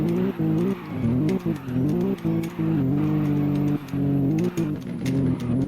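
Maserati MC20 engine accelerating hard through a turn, loud and close, with the revs rising and dipping in surges, brief gaps between gears, and faint tire noise alongside, no voices.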